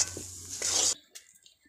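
Mashed taro (man kochu) paste is stirred in a pan, with a few soft scrapes and a short sizzling burst that then cuts off, leaving faint clicks.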